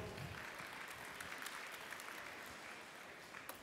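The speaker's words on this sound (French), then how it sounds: "Je demande de l'applaudir, s'il vous plaît." Faint, steady audience applause welcoming a chef onto the stage at a culinary event, a continuous wash of many hands clapping at a distance with no speech on top.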